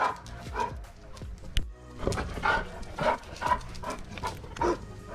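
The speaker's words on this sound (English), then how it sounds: "But Pixie, she loves to run around and go crazy and chase the other dogs." Several dogs bark in short, irregular bursts, fairly close, with some whimpering mixed in and no talking.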